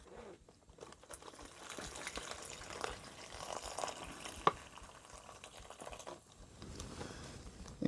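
Hot water is poured into a Mountain House Cheesy Beef Enchilada Bowl meal pouch, giving a quiet, continuous trickling and splashing close by, with a small clink partway through.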